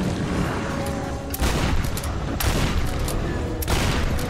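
Dense, loud gunfire in the 2013 Tomb Raider video game, rapid shots packed into a continuous fusillade with a few heavier bursts.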